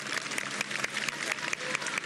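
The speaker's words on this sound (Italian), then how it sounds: "gli applausi composti del pubblico" Spectators at a Giro d'Italia stage near Livorno give restrained applause in memory of a fallen rider, a steady crowd clapping with a few sharper nearby claps standing out.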